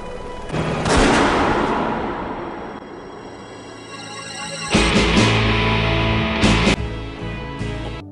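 Soldiers open fire in a scene from the anime Zankyou no Terror: sustained, dense gunfire with booming bursts that swell, ease off and then strike again harder, loud and without any voices.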